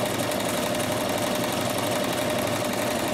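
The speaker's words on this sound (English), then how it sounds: "I am just going to sew at a nice steady pace and move my hands nice and evenly" A Bernette Rome 3 sewing machine stitches with a darning foot at a steady pace, giving a close, continuous rapid mechanical hum with fast needle knocking throughout.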